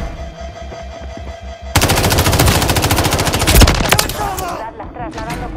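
Loud, continuous machine gun fire in the multiplayer shooter Call of Duty: Modern Warfare 3, a rapid close burst lasting several seconds that ends abruptly before shell clinks and lighter game sounds.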